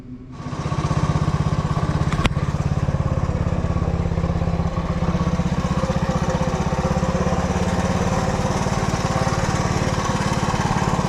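Small single-cylinder engine of a Honda ATC 90 three-wheeler, sitting unused for 50+ years and freshly serviced with a new spark plug, running steadily with a loud, rough, continuous putter close by throughout.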